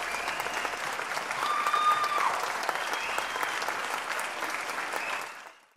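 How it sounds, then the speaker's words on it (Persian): A rap battle audience bursts into loud, sustained applause and clapping with some crowd noise, filling the room evenly for several seconds before cutting off abruptly. "تشویق."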